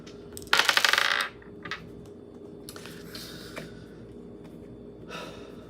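Dice are rolled during a tarot reading: a loud burst of rattling clatter lasting under a second, then a few soft clicks and breathy sounds against a quiet room.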